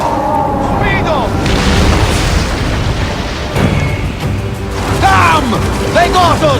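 Ship under attack in Assassin's Creed Origins, loud rumbling booms and clattering impacts of incoming fire across the whole stretch, with shouted voices mixed in.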